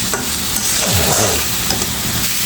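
Chilli powder and spices sauté with a splash of water, giving a loud bubbling sizzle and quick scraping stirs of a spatula across the pan, close up and with no talking.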